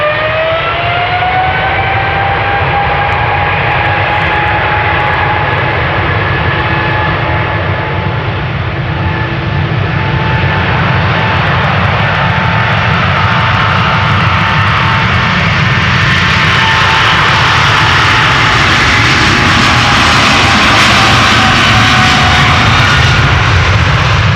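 KLM jet airliner on its takeoff roll and climb-out from the Polderbaan runway at Amsterdam Schiphol, a loud sustained engine roar with rising whining tones that swells and broadens toward the end, heard alone without voices.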